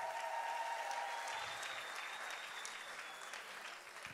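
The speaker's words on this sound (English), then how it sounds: "Everybody's clapping for you" Audience applause at a church conference session for Owen, the gardener and watchman, steady and sustained clapping from a crowd filling the room, slowly easing off over a few seconds with no talk over it.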